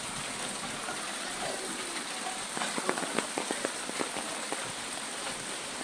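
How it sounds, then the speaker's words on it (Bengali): Steady rain falls over a flooded village in Fultala, Khulna, a soft continuous hiss with a scatter of sharper drips and splashes nearby, and no talking. "আছে বৃষ্টি"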